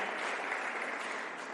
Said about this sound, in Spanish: ¿Alguien puede darle un aplauso a esa idea